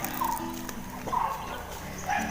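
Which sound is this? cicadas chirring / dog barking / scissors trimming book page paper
dog barking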